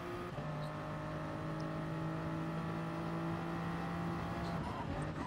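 A race car in Gran Turismo Sport holds a steady, droning engine tone at constant revs, running continuously and moderately loud with little change, tucked in a slipstream on track.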